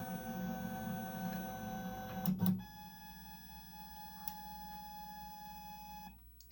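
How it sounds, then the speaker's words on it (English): An Elegoo Neptune 3 printer converted to a CNC machine homing its axes: steady stepper-motor whine and tonal hum with a brief clatter midway, ending in a short stop, close and fairly quiet. "I'm just going to home out the machine."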